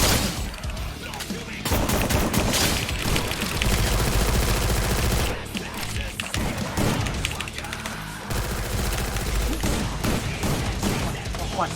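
Gunfire in the video game Free Fire comes in dense, loud bursts of automatic shots that run almost nonstop, broken by a few short pauses.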